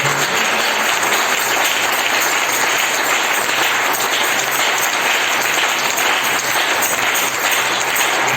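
A church congregation bursts into sustained applause and cheering at a French-language sermon, loud and dense throughout, with no voices breaking through.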